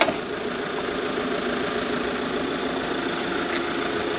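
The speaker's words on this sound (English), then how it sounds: "Ed, you've left the engine running." An Autotrail V Line Sport campervan engine idles steadily nearby, a constant low rumble with a slight rattling texture throughout, no voices.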